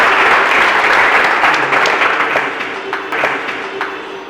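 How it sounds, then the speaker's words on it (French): A crowd applauds a contestant leaving a bilingual competition's round of sixteen, the clapping loud, dense and continuous from the start and thinning slightly toward the end. "Applaudissez-le, s'il vous plaît."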